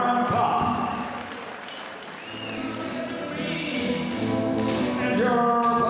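Audience applause after a unanimous-decision kickboxing bout, filling the arena as steady, dense clapping mixed with crowd noise, with an announcer's amplified voice over it.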